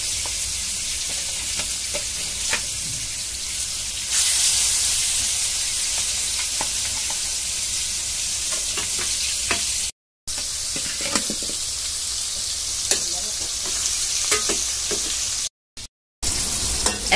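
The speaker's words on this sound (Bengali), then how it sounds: "তেজপাতা আর পেঁয়াজ এখন ব্রাউন কালার করে ভেজে নেওয়া হচ্ছে" Bay leaves and onions browning in hot oil for a boal fish curry make a loud, constant sizzle, with scattered scrapes and clinks from stirring and two short dropouts.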